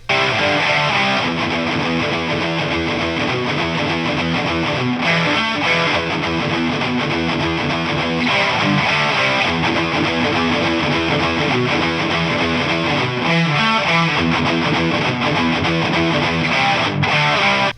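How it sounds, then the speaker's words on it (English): A heavily distorted, high-gain electric guitar through a modded Marshall amp and Marshall cab, no distortion pedal, plays continuously and loud, thick chugging riffs with sustained saturated tone and no pauses. "straight into his Jose Arredondo modded Marshall with Marshall cab"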